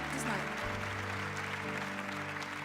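Church congregation applauding during a service, a moderately faint wash of clapping that runs throughout beneath a speaking voice.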